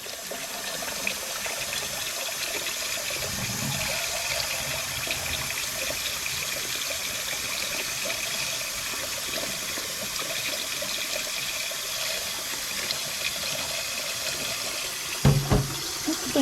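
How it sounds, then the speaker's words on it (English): Steady running cool tap water splashes continuously into a sink while rinsing hard-boiled eggs, with a brief clatter near the end. "I'll rinse them with cool water."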